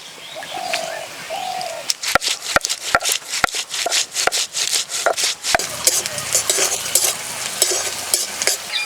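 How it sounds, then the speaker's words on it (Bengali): Chopped onions fry in a pan for a Bengali fish curry, giving a soft steady sizzle broken by sharp clacks of a spatula stirring. Birds coo and chirp in the background. "পেঁয়াজ একটু ভেজে নিলাম।"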